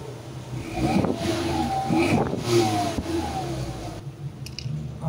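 A car engine revved close by with its exhaust tip removed, rising in two or three throaty bursts of throttle over a steady running drone.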